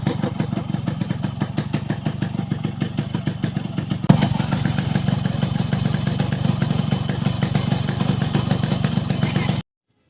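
A Yamaha RX 100 motorcycle in fresh condition runs steadily, its two-stroke engine putting out a loud, even, rapid putter that grows slightly louder and rougher about four seconds in, then cuts off abruptly near the end.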